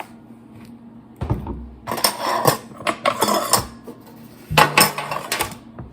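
A metal baking sheet is pulled from the oven and handled, producing a series of clattering metallic bangs and rattles in irregular bursts, fairly close and loud; no talking.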